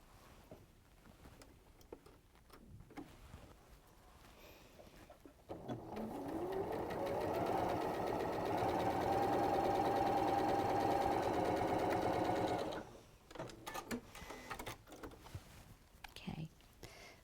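A sewing machine stitching quarter-inch seams on quilt pieces gives a steady, close, whirring run of several seconds, with quiet talking before and after it.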